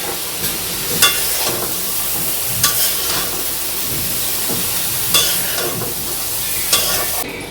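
Washed snake gourd fries in a pan with a loud, continuous close sizzle and hiss, punctuated every second or so by scraping stir strokes against the pan.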